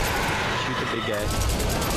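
Rapid bursts of gunfire from a split-screen co-op shooter, loud and continuous throughout, mixed with excited voices of players talking over the shooting.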